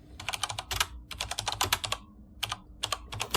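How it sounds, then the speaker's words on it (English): Rapid computer keyboard typing in quick uneven bursts of clicky keystrokes, close and clear, with short pauses between flurries. "she's typing again"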